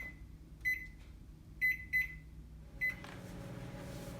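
A microwave oven heating dill potatoes gives three short, bright beeps spaced about a second apart over its low running hum, followed by a shift in the background rumble.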